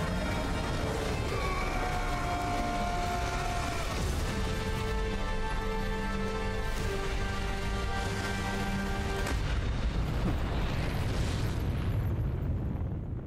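Zeta Flare blast in Final Fantasy XVI, a sustained, roaring eruption of explosive rumble with crackling bursts and bright tonal layers, loud and continuous throughout with no voices.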